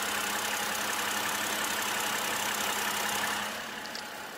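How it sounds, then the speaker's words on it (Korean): A BMW 528i petrol six-cylinder engine idling with the bonnet open, a steady, smooth hum with no misses that eases off slightly toward the end. "이 5 시리즈에서 만나보기 굉장히 힘든 정말 조용한 엔진 소음이고요"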